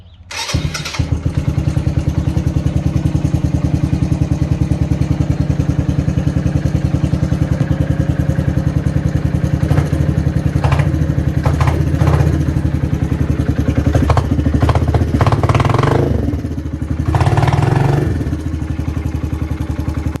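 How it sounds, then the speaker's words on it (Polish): A cold 125 cc motorcycle engine starts and settles into a steady, loud idle with a throbbing low rumble, a few brief clattering blips near the end. "Motor jest całkowicie zimny, ja nie mam zwyczaju dania mu po garach"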